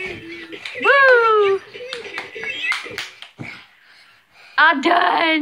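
A child and an adult clap their hands in short bursts of sharp claps, mixed with high-pitched singing and cheerful voices close by at home.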